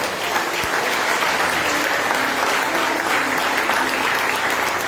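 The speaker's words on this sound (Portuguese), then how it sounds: "Aplauda Jesus nessa noite." A church congregation applauds during an evening service, a steady, dense wash of clapping hands that holds throughout, with faint crowd murmur and no speech over it.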